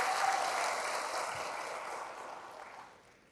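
A church congregation claps together in steady, dense applause that stays fairly even before fading out toward the end.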